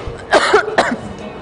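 A woman coughs several times in short, close bursts, two main harsh coughs within a brief stretch, as if ill with a fever, with no talk around them.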